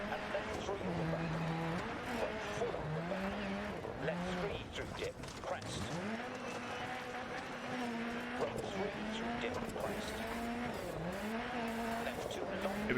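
A rally car in the Dirt 4 video game revs and skids through a handbrake turn, engine pitch rising and falling in repeated sweeps over continuous tire and gravel noise, with no talk.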